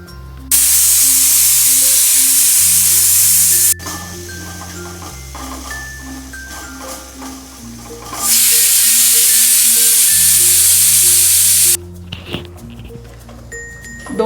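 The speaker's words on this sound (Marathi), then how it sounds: "1 शिटी मोठ्या आचेवर आणि 1 शिटी मध्यम आचेवर अशा 2 शिट्या करून घ्यायच्या।" A stovetop pressure cooker boiling sweet potatoes lets out two long, loud steam whistles, each a steady hissing shriek lasting several seconds, separated by a quieter stretch of bubbling and rattling from the pot.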